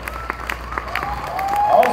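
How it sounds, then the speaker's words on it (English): Audience applause at a gathering for a presenter, a brief burst of scattered claps building into a fuller round, with a voice and a rising tone mixed in. "Let's give him a round of applause"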